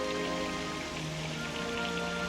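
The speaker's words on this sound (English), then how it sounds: "I think we should get out of the rain." Steady, dense rain falls on surfaces in a continuous even hiss that runs without a break throughout.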